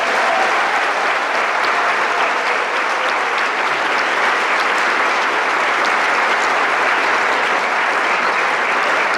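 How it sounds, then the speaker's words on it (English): Steady, dense applause from a ceremony audience welcoming new National Honor Society inductees at a high school, loud and continuous for the whole stretch with no talking. "please join me once again in applauding all of our new National Honor Society members."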